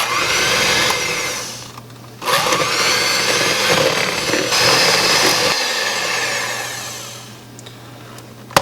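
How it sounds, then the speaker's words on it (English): Electric hand mixer whirring steadily as it beats a cinnamon roll frosting of vanilla extract and other ingredients, loud and close, with one brief dip midway and a tapering finish. "So we're going to mix this up with an electric hand mixer and then it'll be ready."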